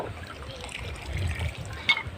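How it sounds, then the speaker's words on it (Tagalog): Strong current of water in a waterfall pool near Lumban, Laguna, heard as a soft, continuous rushing and trickling flow with a brief splash near the end. "malakas din po ang agos."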